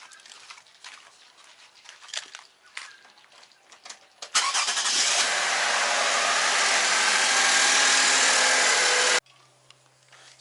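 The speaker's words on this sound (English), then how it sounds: "let's start the car" A car engine on a DIY oil change job cranks and fires up after a few seconds of mechanical clatter, then settles into a steady, loud, close idle that runs for several seconds before stopping abruptly.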